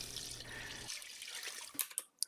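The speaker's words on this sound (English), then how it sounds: "we're going to add 4 cups of water" Water is poured into a large gumbo pot. A quiet, steady stream runs at first, then breaks into a few scattered drips and splashes.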